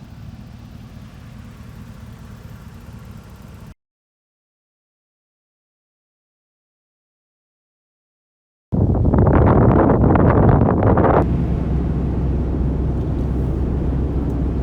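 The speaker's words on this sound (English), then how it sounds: "it is windy and dusty" Wind blows outdoors near Weed, California, on a dusty day, a loud steady rumbling roar against the microphone. A gap of silence splits it, and it comes back stronger and gustier before easing to a constant blustery rush.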